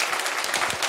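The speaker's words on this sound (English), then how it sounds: "I just would like to ask for a round of applause for Tom Marble, our lead organizer." A brief burst of clapping from a conference audience, steady and moderately loud, under a second long.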